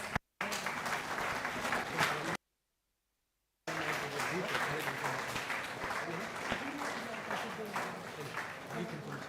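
An audience at a national-level college hackathon applauds with sustained, dense clapping, broken by a brief silent gap partway through.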